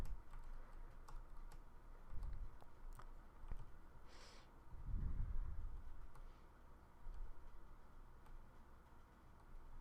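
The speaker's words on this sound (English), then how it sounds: "this is all done with the keyboard, the up down arrows, up down left right" Computer keyboard arrow keys tapped while steering a maze game, faint scattered clicks in irregular bursts, close but quiet, with no voices.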